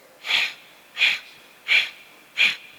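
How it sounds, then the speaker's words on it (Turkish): A person breathes out through the nose in four separate stepped pushes during a guided breathing exercise, each breath a short airy hiss with even pauses between, close and alone. "Dört kademede veriyorsun."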